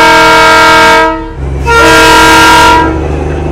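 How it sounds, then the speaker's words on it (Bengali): Darjeeling toy train at Batasia Loop sounds two long, loud, close horn blasts separated by a brief pause, with engine rumble underneath. "এই দাঁড়িয়ে আছে টয় ট্রেন"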